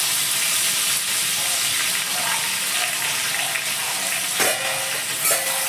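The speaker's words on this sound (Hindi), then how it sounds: "ऑयल गर्म हो चुका है तो अब हम इसमें डालेंगे जीरा, हरी मिर्च, अदरक लहसुन का ये कूटा हुआ" Cumin seeds, green chili and crushed ginger-garlic hit hot oil in a pan for restaurant-style chow mein, giving a loud, steady, close hiss with a few brief sharper crackles near the end.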